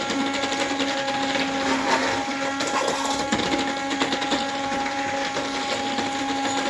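A blender whirs steadily and loudly, its motor whine holding a constant pitch with slight fluctuations as it churns thick soap batter.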